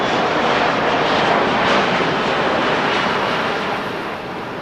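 A Boeing 777 cargo plane departs in the rain at LAX, a loud, continuous engine roar that fills the whole moment and eases slightly toward the end, with no speech.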